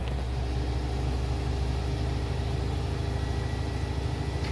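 A washing machine spins up to 800 rpm on a silk bedding wash, giving a steady, even low drone and rumble that holds throughout with no voices.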